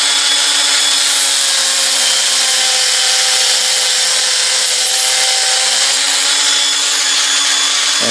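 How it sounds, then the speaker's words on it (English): A small Ryobi or Dremel rotary tool with an abrasive cutoff wheel trimming a steel drill bit, a steady high-pitched grinding whine running loud and continuous throughout. "I like to use my little Ryobi or Dremel, and I've got a bunch of them with a little abrasive cutoff wheel"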